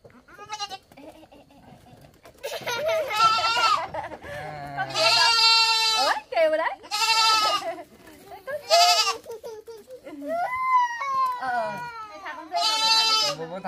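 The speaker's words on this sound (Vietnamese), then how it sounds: "Con dê vào chuồng." Goats bleat loudly and repeatedly in wavering cries at close range while being herded into a new pen on a rural farm, with people talking between the calls.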